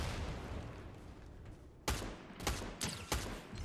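Sniper rifle fire in Fortnite: four sharp, loud shots, close together, after a stretch of dense background game noise, with no talk over them.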